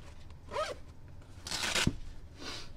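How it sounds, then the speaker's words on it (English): Zipper on a Coyote Tactical Gordita pouch pulled open in three separate broadband rasping strokes, the middle one longest and loudest, close up with no voices. "this front zipper here is how you get into the pouch"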